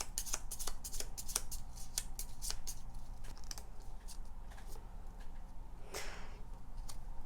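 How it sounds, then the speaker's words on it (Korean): Tarot cards are shuffled and drawn in a run of quick, crisp riffles and flicks, with a few sharper snaps, all heard close and alone over a steady low room hum. "3번 분들을 위한 조언 카드를 뽑아보도록 하겠습니다"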